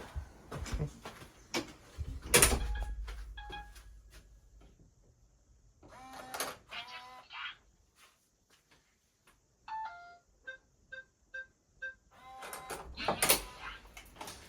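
A Korean smart home's front door clatters open with mechanical clicks and a sliding thud, followed by an electronic chime melody and spoken-style tonal announcement, then more door handling sounds.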